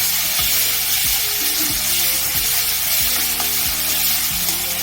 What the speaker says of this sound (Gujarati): આ આદુ મરચા લસણની પેસ્ટ છે એ આપણે એની અંદર એડ કરશું બરાબર. અને એને થોડી તેલમાં સાતડવાનું છે.